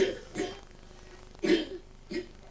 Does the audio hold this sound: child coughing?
yes